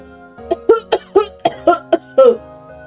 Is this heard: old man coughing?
yes